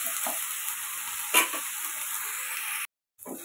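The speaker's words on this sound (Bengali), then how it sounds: "আমি দিয়ে দিচ্ছি পেঁয়াজ রসুন আদা পেস্ট, একটু নাড়িয়ে নিচ্ছি।" Onion, garlic and ginger paste sizzles and fries in a pan for chicken curry while being stirred, a steady close hiss with a brief louder scrape partway through and a short break near the end.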